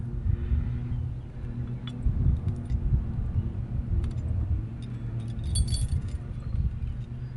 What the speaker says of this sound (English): the key simply unscrews the cap, the hitch pin cap, if you will, that holds it in place